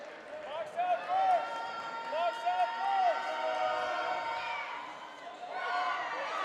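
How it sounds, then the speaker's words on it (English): A crowd at a high school basketball game gives a player an ovation, with cheering and clapping swelling and fading in the gym while a commentator talks over it and sneakers squeak on the court. "And Julian gets a nice ovation from the crowd"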